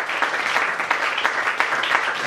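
A church congregation claps and applauds to acclaim the Lord, a steady, dense wash of many hands filling the room at full loudness, with no pause through the stretch.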